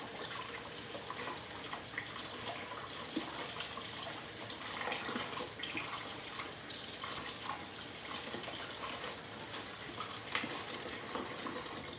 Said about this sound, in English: I'm also gonna rinse off this whisk so I can use it again.